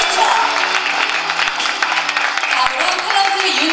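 An audience at the Ogival watch launch event claps in welcome, a dense, steady wash of applause that stays loud and unbroken throughout.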